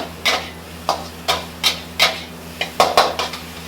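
Fried rice coated in egg, with carrot, being stir-fried in a pan: a metal utensil clanks and scrapes against the pan in roughly eight sharp, rhythmic strokes, close and loud, with no voices.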